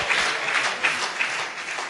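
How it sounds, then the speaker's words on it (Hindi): An audience claps at a Hindi poetry recital: dense, sustained applause from a large crowd, loud and even for the whole stretch with no voices on top. "है जोरदार तालियां"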